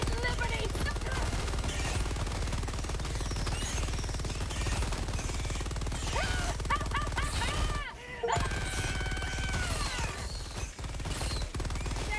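The Stalwart machine gun in Helldivers 2 fires at high RPM, a dense, continuous rattle of rapid shots mixed with busy battle effects, with one brief pause midway.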